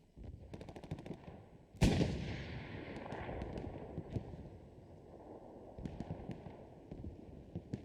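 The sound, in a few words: rocket fire and explosions in video game Hell Let Loose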